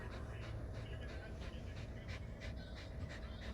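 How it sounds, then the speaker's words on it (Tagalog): A dog pants rapidly and steadily up close, the quick breathy rhythm running throughout while a person talks over it. "Hingal-hingal yan."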